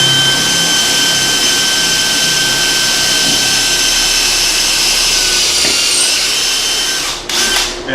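A power drill fitted with a 12-inch-long bit bores through a floor during a home remodel, a loud, steady high-pitched whir that runs for several seconds, then dips and sputters as it bites through before stopping.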